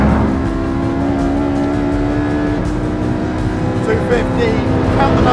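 A supercar engine races on the track at Portimao, loud sustained engine roar holding steady then shifting pitch as it revs, heard close with someone talking over it.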